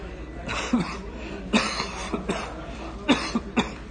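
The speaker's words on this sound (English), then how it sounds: "What I was saying about the cough." Several harsh coughs in quick bursts, close and fairly loud, repeated in clusters with short pauses between.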